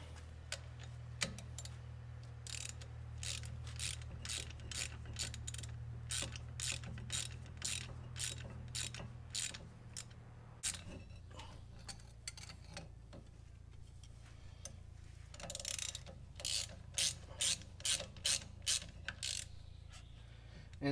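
A ratchet snugs the rear brake bolts on a Jeep Renegade, giving long runs of quick, evenly spaced clicks close to the mic, first over a low drone and later in shorter bursts.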